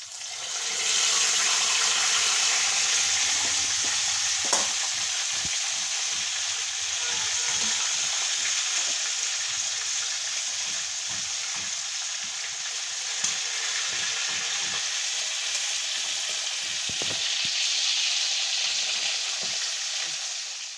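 Chicken legs bubbling and sizzling in a pot for chicken biryani, a loud, continuous frying hiss with watery boiling texture and occasional faint clinks, close and unbroken throughout.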